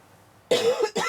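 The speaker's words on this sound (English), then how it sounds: "Oh, I have a cough." A woman coughs twice in quick succession, sharp and close, the first cough slightly longer than the second, after a moment of near quiet.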